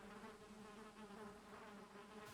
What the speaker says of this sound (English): but there is bees